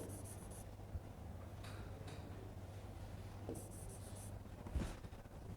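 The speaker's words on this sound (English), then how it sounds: "So, I will just write." Faint writing on a board during a lecture on GPT-2, heard as a few soft scratchy strokes over a steady low hum and room noise, with no talking.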